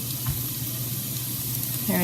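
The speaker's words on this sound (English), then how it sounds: "I'm going to let that sizzle and mix it up" Steady sizzling of spices in a hot pot, continuous crackle with a brief clink near the start.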